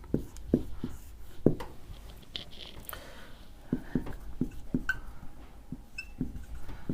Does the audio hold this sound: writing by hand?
yes